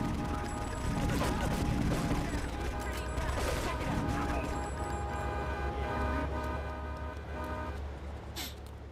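Bursts of gunfire aimed at pedestrians in the game Frosted Winter, mixed with street noise and a car horn, loud and busy over several seconds.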